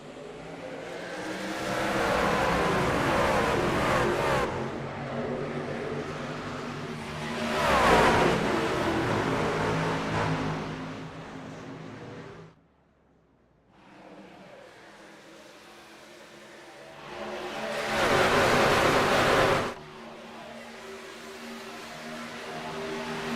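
Race cars roaring off at the start of a VRX Cup Series race at Charlotte Motor Speedway in the iRacing game, loud sustained engine drone with swelling revs and a brief lull near the middle, no voices.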